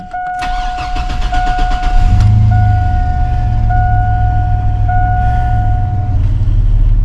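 A car engine catches and settles into a steady, loud low idle right up close, with a chiming dash warning tone repeating over it and no talking.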